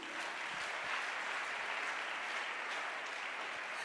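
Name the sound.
congregation applauding Jesus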